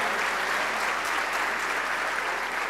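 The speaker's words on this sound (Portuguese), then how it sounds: "E mais uma salva de palmas para o nosso palestrante, Richard Barrett." An audience applauding a guest speaker at a corporate culture-transformation presentation, a brief, even wash of many clapping hands at moderate level with no voices.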